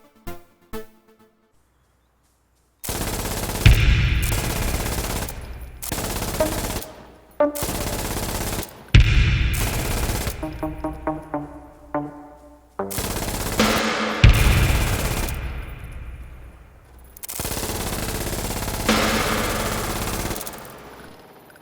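MG3 machine gun firing in Insurgency Sandstorm, loud sustained bursts of rapid automatic fire separated by short pauses, repeated over and over and heard alone.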